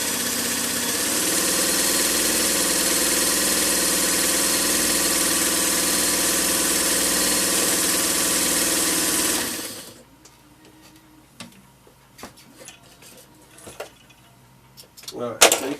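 A White model 162 sewing machine set to its cam setting runs steadily for about nine seconds with a loud, even mechanical whir, then stops, leaving only faint clicks and handling noises.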